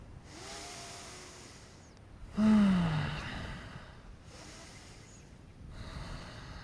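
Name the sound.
deep breathing in and out during qigong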